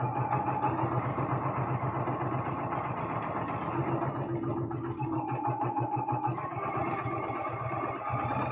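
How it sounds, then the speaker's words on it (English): A sewing machine runs steadily, stitching a seam along a paper-pieced pie quilt block, its fast rhythmic motor whir continuous and close with no pauses. "we're going to sew that seam"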